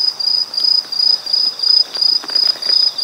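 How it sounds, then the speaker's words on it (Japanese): An Aomatsumushi tree cricket sings at Chigasaki in September, a loud, piercing high-pitched chirp repeated in steady, even pulses close to the microphone, with no voices. "この音、アオマツムシ。"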